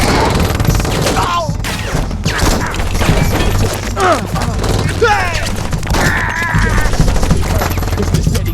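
SMG fire from the Saints Row video game crackles in loud rapid bursts amid explosive game noise, with voices talking over the action.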